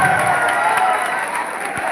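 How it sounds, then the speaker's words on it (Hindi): An audience applauds and cheers at a live motivational event, a loud dense wash of clapping and crowd noise that holds steady throughout. "अब मैं चाहूंगा कि जोरदार तालियों के साथ में एक बार स्वागत और अभिनंदन और गुरुनानी सर के साथ में करते हैं"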